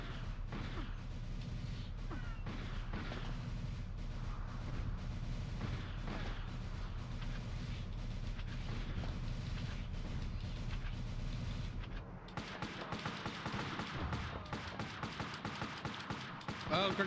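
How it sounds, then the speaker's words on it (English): Grenade explosions and battlefield gunfire from the Army Men: World War video game form a dense, continuous roar of blasts and shots, with a sharper burst of crackling detonations near the end. "Oh, grenades!"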